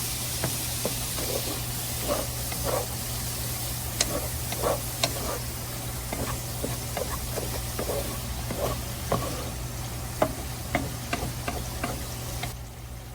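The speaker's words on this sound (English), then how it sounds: "You want to saute that for about 2 minutes." Sautéing in a pan for chili beans: a steady low sizzle runs throughout, broken by frequent small ticks and taps of a utensil against the pan, all fairly quiet with no talking.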